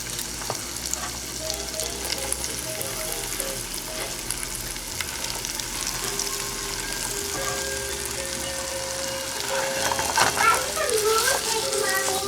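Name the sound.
potatoes frying in hot oil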